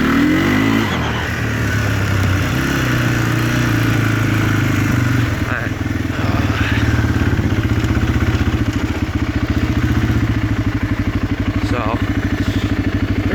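A 2004 Polaris Predator 500 2WD ATV engine drones steadily and loudly while being ridden, with a dense, pulsing rumble that briefly shifts pitch partway through.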